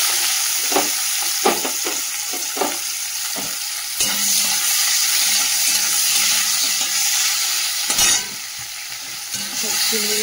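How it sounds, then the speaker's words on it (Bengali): Prawns fry in hot oil with ghee, a steady bright sizzle running throughout, broken by several sharp clinks and scrapes of stirring early on and a louder clatter near the end, with no voices. "নিজে চিংড়ি মাছটাও ভেজে নিই"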